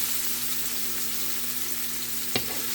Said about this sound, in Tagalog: I'm going to put the garlic now